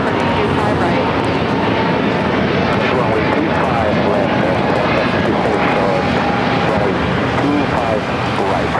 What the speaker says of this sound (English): This is Spirit Airlines 3787 taking off to Detroit. It's on the A320neo.